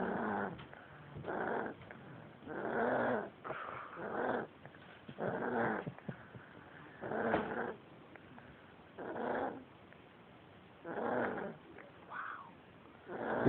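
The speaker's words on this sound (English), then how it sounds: "He's not even 2 years old and he snores this loud." A young dog, under two years old, snores loudly in slow, rhythmic rumbling bursts, each breath a raspy growl-like rattle followed by a short quiet gap.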